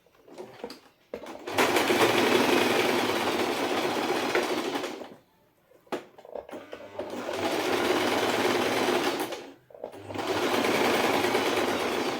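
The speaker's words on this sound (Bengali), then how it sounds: "তো চলুন আপনাদেরকে মেশিনে একবার সেলাই করে দেখিয়ে দিচ্ছি।" Sewing machine stitching fabric for a potli bag, running in three sustained whirring bursts separated by brief pauses, close and fairly loud with no talking.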